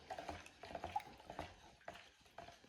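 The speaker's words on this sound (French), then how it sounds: "Donc ici, je vais mélanger." Oxalic acid salt being stirred into a basin of water for cleaning tile grout, a run of faint scraping, swishing strokes with small clinks, close and alone.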